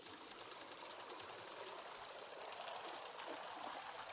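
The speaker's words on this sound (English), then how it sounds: "hold X to pour down water" Water poured from above into a tea kettle in the video game Wanderstop, a steady, even rushing splash with no pauses, moderately loud, running the whole time.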